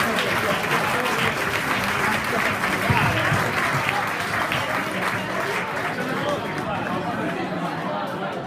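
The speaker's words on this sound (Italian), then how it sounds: "Un applauso ai nostri campioni." An audience at a Parma Club party in Medesano applauds in sustained, dense clapping with chatter mixed in, then slowly tapers off toward the end.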